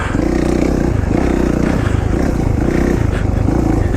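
Close and loud, a 2014 Kawasaki KX450F dirt bike engine blips and revs in repeated surges with rattly mechanical clatter, at an off-road riding area.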